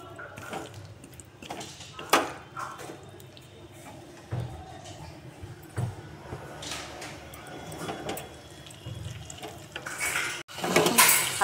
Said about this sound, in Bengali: আলুটা দিয়ে একটু কষিয়ে নিচ্ছি।